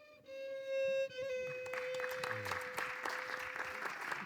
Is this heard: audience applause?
yes